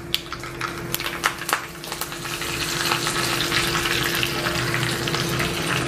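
Mustard seeds and urad dal fry in hot oil for tomato chutney, a steady broadband sizzle with scattered sharp pops and crackles near the start, growing denser and louder through the second half.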